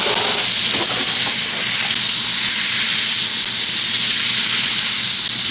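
Carrots sizzle and fry in salted butter in a warm pan, a steady, close, moderately loud hiss that runs unbroken from start to finish.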